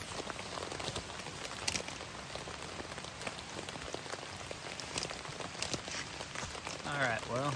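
Steady rain falls outdoors on a hiking trail, a dense continuous patter of drops on surfaces near the listener, with a brief voice rising near the end.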